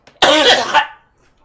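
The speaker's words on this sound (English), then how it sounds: "Coughing." A single short, harsh cough from a man close by, a sharp burst that fades within about a second, with no other sound around it.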